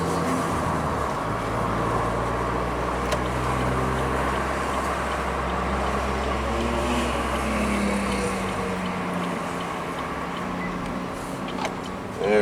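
Car cruising in first gear, a steady close engine drone with road rumble that stays even before easing off near the end.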